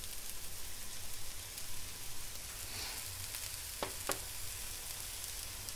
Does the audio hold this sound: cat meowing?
no